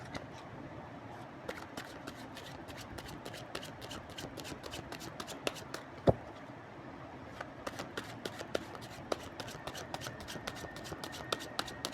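Tarot cards shuffled by hand, a steady run of crisp riffling clicks and soft slaps close by over about twelve seconds, with one sharper snap near the middle.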